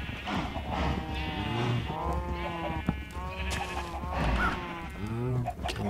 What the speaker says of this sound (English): Sorry, the cows is a bit loud.